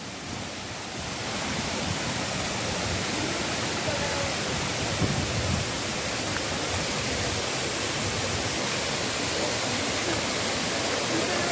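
A forest waterfall at Agasthyarkoodam roars as steady, dense broadband rushing water, loud and unbroken throughout, with no talk over it.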